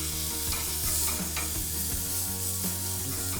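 Ribeye steak searing on a very hot Kamado Joe charcoal grill outdoors, a steady, close sizzle and crackle of fat with faint ticking pops throughout, loud and alone with no speech.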